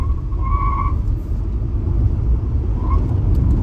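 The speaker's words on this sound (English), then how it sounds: "You can hear the wheel spin, guys." A Tata Punch EV launched in sport mode spins its wheels, giving short, tonal tyre squeals over a loud, steady rumble of road and motor noise heard from inside the car, with no talking.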